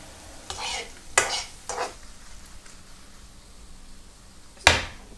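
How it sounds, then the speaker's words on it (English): Butter being stirred into mushrooms in a hot pan, with soft scraping and utensil clicks, a few sharp knocks against the pan, and faint sizzling underneath. Close and fairly quiet, with no voices. "So I'm going to put in a little bit of butter, mix it through."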